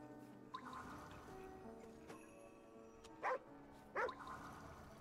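Little dog in Ghostwire: Tokyo giving two short, close yips or barks over a quiet ambient hum with faint background chatter.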